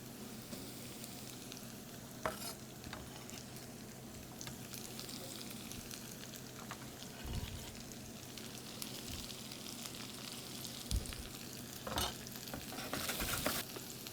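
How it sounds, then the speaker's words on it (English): Chopped onion frying in a pan of oil while chicken and biscuits are being cooked, a steady low sizzle with occasional stirring scrapes and clunks, moderately quiet with no talking. "Now I'm going to throw the onion in the pan."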